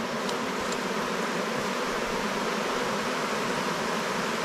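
Honeybees inside an open hive make a dense, steady, close buzzing drone that stays even throughout.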